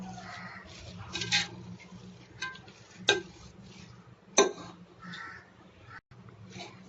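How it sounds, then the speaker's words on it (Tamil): A spoon stirring ven pongal with ghee-roasted cashews in a pot, with soft scraping broken by three sharp metallic clacks against the pot's rim, close and fairly quiet. "நல்லா கலரி விடணும்"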